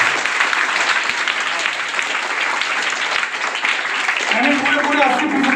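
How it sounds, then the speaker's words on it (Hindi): Loud, steady applause from a crowd fills an award distribution ceremony for a Seerat-un-Nabi quiz, with a few voices breaking through near the end. "जोरदार तालियों का"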